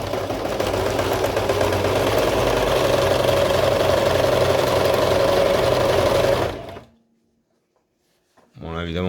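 A sewing machine stitches fleece fabric for a face mask, running loud and steady for about six seconds before stopping, followed by silence and then a voice at the end.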